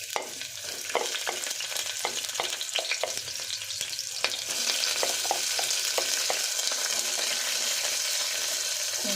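Onions fry over a low flame in a pan with cloves, first with a scattering of scraping stirs over a light sizzle, then settling into a steadier, brighter sizzle.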